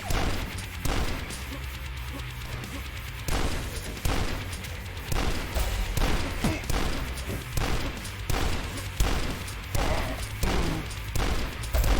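Rapid bursts of gunfire in the retro first-person shooter DUSK, repeated shots and impacts cracking through most of the stretch, loud and close, with faint voices briefly underneath.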